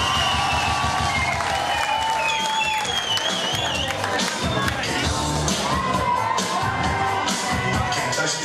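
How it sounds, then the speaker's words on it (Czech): After the final of a disco dance battle, a crowd applauds the men with sustained, dense clapping, cheering and whoops that fill the whole stretch, voices shouting through it. "chlapům by se měli zatleskat, pořádnej aplaus!"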